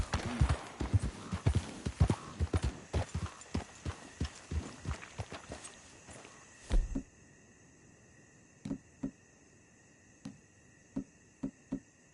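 Horse hooves clip-clop in a PS4 video game, a quick rhythmic run of loud close hoofbeats that slows and stops, followed by a few sparse steps against a faint steady game drone.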